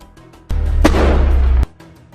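Gunfire from a Hamas fighter near an Israeli tank in Gaza: a sudden loud, sustained burst of about a second with a sharp crack inside, abruptly cut off, quieter noise before and after.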